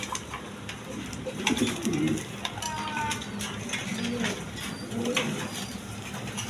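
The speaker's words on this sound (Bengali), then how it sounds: "এক পেয়ার রাজগোল্লা কবুতর দেখার মতো কবুতর" A pair of sky-blue Rajgolla pigeons coo near and steadily, low rolling calls repeating through a noisy background with faint rustling.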